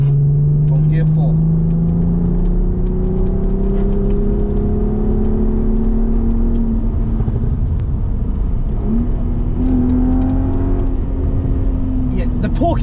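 A naturally aspirated Volkswagen VR6 engine pulls hard from inside the car in fourth gear, a steady droning tone climbing in pitch across the run, with a brief dip near the end as it carries on rising.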